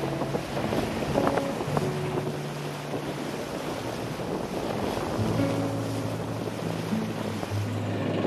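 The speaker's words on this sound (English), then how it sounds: "a squall has formed and is blowing the wind from the wrong direction" Squall wind gusting across a sailboat at sea, a steady roaring rush of air and microphone buffeting with faint rigging tones and waves underneath, no voices.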